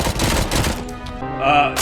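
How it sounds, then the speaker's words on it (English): Gunfire and explosions from the RoboCop: Rogue City video game, a loud, dense burst of shots and blasts that thins out and then swells again near the end. "Again, bombs going off, missiles, explosions, fire, everything."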